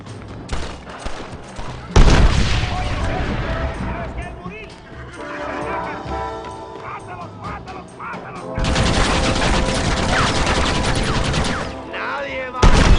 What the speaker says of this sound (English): Hurry, John! Use the cannon!